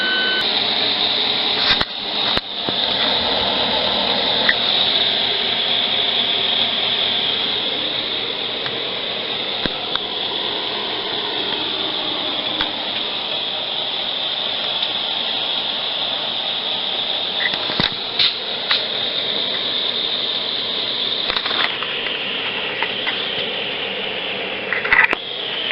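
A grinder fitted with a wire brush runs steadily while cleaning up the welds on a custom-built welding cart. The sustained, bright whir continues for the full stretch with no pauses. Brief scrapes and bumps break through it now and then.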